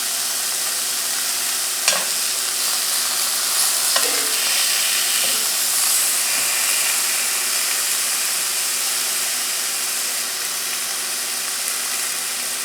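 Spinach stuffed pork chops frying in a pan, a steady broadband sizzle with soft crackles and a few sharp clicks of utensils against the pan, moderately loud and continuous with no talking.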